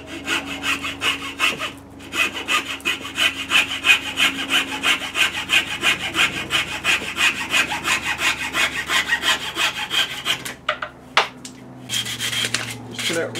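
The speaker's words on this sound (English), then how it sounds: "hacksaw to cut this piece of wood" A hacksaw, used for its finer teeth, cuts through a piece of wood in steady rhythmic back-and-forth strokes, close and loud, pausing briefly near the end before a few final strokes.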